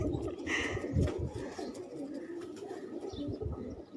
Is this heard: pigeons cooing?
yes